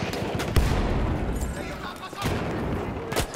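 Battlefield 1 multiplayer combat with sharp shots and bursts of gunfire going off near and far, punctuated by a heavy blast, over continuous battlefield din, with voices in the mix.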